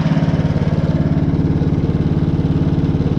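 Woodland Mills sawmill engine running just after a cold start near freezing, a loud, steady, rapidly pulsing small-engine idle throughout, with no voices over it.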